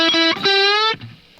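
Distorted electric guitar notes in a minor blues lick: a few quick picked notes, then one note bent a full step upward and held, ending abruptly with a faint tail; no voices.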